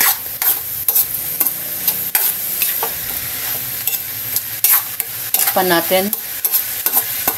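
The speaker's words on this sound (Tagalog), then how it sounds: "Haluin natin para masama yung ibang ingredients niya." Bean sprouts and ground pork sizzle in a pan while being stirred, with steady frying hiss and repeated scraping strokes close up; a voice speaks briefly near the end.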